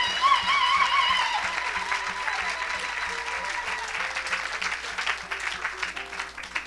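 Church congregation at an evangelistic service claps and cheers in praise, dense continuous applause that starts loud and slowly thins, with keyboard music underneath.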